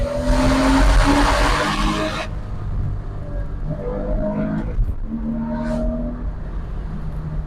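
A Porsche Boxster S mid-engine sports car roars loudly for about two seconds, then cuts to a quieter engine hum with faint rising tones, heard without any talk.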